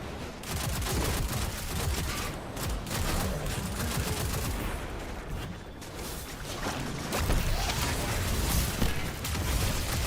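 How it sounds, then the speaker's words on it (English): Dense, sustained bursts of turret gunfire and explosions rattle through the Warlord's Ruin dungeon in Destiny, a loud continuous fusillade filling the whole stretch with little pause. "Heard them turrets."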